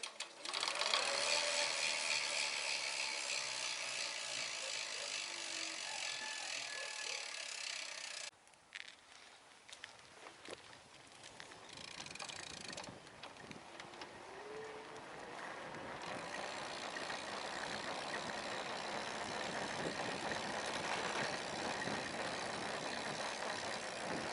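An E-Azimut electric bicycle, just repaired, is ridden with a steady whirring, ratcheting mechanical hum that runs almost continuously, dipping briefly partway through before resuming at an even level with no talk.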